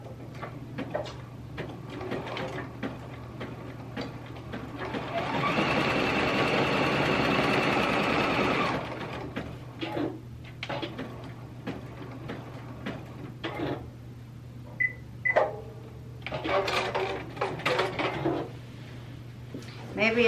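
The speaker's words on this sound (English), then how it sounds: "So I'll just use one zigzag stitch for each spoke." A sewing machine runs a zigzag stitch across quilt spokes, a steady whirring burst of a few seconds at close range, set among handling clatter and soft ticks with talking in the room.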